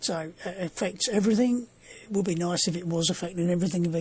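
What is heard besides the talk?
No everyday noise stands out behind the speech.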